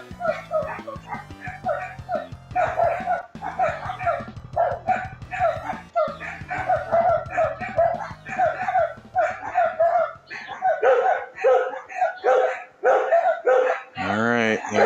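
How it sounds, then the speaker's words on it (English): Several dogs bark and yip repeatedly at a deer, the loud, overlapping barks coming in quick bursts, with a few whimpers between them. "I knew that's why they were barking."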